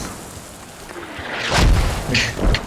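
Mortar rounds slam into a building during a video game match, a quiet stretch giving way to two or three deep, booming blasts with a crackling burst and a sharp debris crack near the end.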